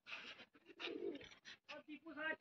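Soft pigeon coos repeat in short rounded bursts close to the microphone, with some overlapping vocal sounds.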